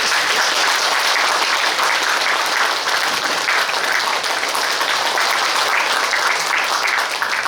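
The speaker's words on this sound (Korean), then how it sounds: "큰 박수로 환영을 해주시기 바라겠습니다." An audience at an academy lecture hall claps steadily to welcome a former Daegu mayor to the stage, a dense, loud, continuous wash of applause with no talking.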